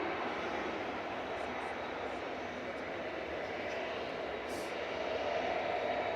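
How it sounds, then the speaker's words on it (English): An Airbus A380 at Manchester Airport sends a sustained jet engine roar across the runway, steady and fairly loud, with a brief faint voice in the middle. "I'm going to follow the A380"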